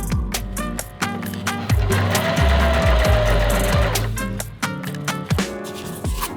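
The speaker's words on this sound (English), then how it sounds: "I'm just gonna try to keep this nice and tight this way while I sew in a top stitch." A sewing machine stitches a topstitch on a fabric bicycle frame bag, giving bursts of rapid mechanical needle clatter with a longer continuous run in the middle and brief pauses between bursts.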